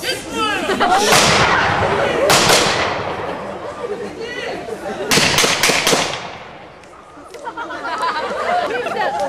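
Several sharp, loud gunshot bangs ring out during law-enforcement shooting training, among people talking and shouting nearby, with a tight burst of shots near the middle.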